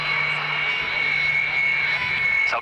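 A two-seat Sukhoi jet, a heavy fighter of about 20 tons, taxis past at an airshow, its engine giving a steady, loud whine and roar that stays even for under three seconds.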